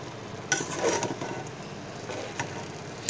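Rice tossed with spices in a pot for kabab biryani, soft scraping stirs and light sizzling, a couple of sharper utensil knocks against the pot, close and fairly quiet.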